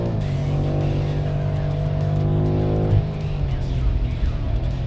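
A BMW M5 F90 accelerates hard in a drag race against a Mercedes-AMG E63S, its engine droning loudly with steady harmonic tones that shift around the midpoint as it changes gear, close and continuous.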